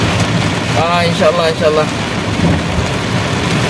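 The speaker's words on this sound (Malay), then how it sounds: "Hujan lebat, ribut." Heavy rain in a strong, windy storm pounds loudly and continuously on a car driving along a highway in Petaling Jaya. Someone speaks briefly over the downpour.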